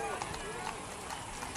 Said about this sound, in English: And coming up is some more horses. Here's more of the horses.